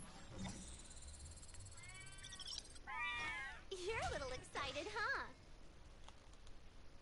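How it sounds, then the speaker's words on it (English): A cat meows several times in a row, a few short rising and falling cries close together, each fairly near and clear. "Well, meow to you too. Come on. Work with me, cat."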